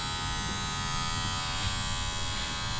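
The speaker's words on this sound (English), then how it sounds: "I can simply just pick the hair up with the comb, slide the clipper right over" Electric hair clipper running steadily close up as it slides over hair lifted on a comb during a men's barbershop haircut, a continuous even buzz with no talk.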